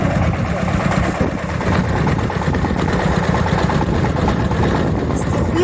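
A turbocharged Shifeng tractor engine labours uphill while ploughing, a loud, close, continuous low rumble that holds steady throughout with a voice faintly underneath.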